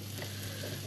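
Skin-side-down chicken frying in a pan gives a brief, steady sizzle with a constant low hum underneath, close and fairly faint.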